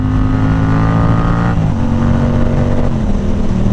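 A Yamaha R7 motorcycle engine holds a loud, steady drone while riding through gentle turns on brand-new tires, with a slight pitch shift midway as the revs change and no voices.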